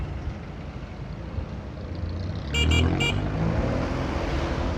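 A Rusi RFI 175 motorcycle being ridden, a steady engine and road rumble with wind noise, briefly broken by a few quick horn-like beeps midway.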